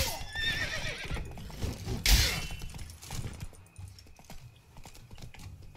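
A horse neighs loudly in a Witcher 3: Blood and Wine tourney scene, followed by a sharp shattering crash and clattering hooves, with clicking keys in the background.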